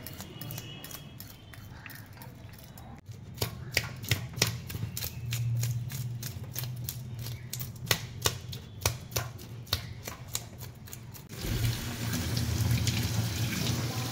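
Hilsa fish being rinsed by hand under a running kitchen tap, a steady stream of water with quick clattering splashes and taps in the middle stretch, then a fuller gush of flow near the end, with no talking.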